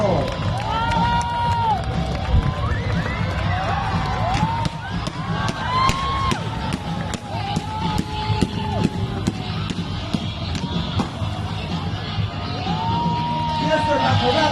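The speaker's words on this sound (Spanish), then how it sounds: "Ese fuerte aplauso, que se escuche ese ánimo verdadero." A large outdoor crowd at a bonfire lighting at a Nuevo Laredo food festival cheers, whoops and yells continuously, loud and close, with scattered shouts rising above the steady roar.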